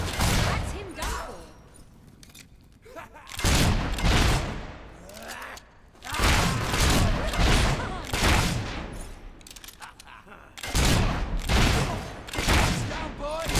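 Bursts of gunfire from the video game Fable III, with rapid volleys of shots and booms in several loud clusters separated by brief lulls, mixed with voices talking over the fighting.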